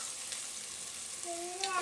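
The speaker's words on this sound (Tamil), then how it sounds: "ஓரளவுக்கு வதங்கி வந்துருச்சு வெங்காயம்" Onions and green chillies sauté in a pan with a faint, steady sizzle for under two seconds, and a thin tonal whine rises near the end.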